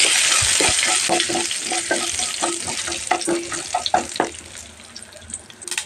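Garlic and curry leaves fry in a pan for tomato pudina pachadi, a steady close sizzle with repeated stirring scrapes in an uneven rhythm, no voices over it.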